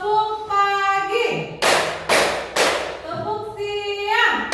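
Classroom clapping rhythm game, tepuk pagi: a teacher's voice chants, then three sharp group claps ring out together in quick succession before chanting resumes.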